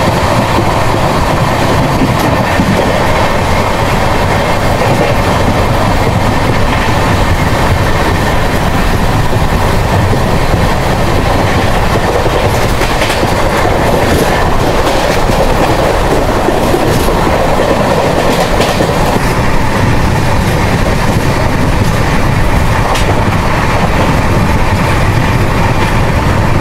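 The Sampark Kranti Express rumbles loudly along the rails, with continuous heavy roar and rhythmic clickety-clack from the wheels, close and unbroken throughout.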